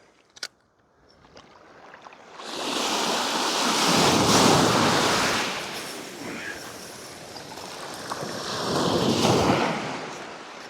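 Surf rolls up a beach in Sutherland as the tide comes in, two big swelling washes of breaking water rising and fading close to the microphone, with some wind buffeting and a brief knock at the start.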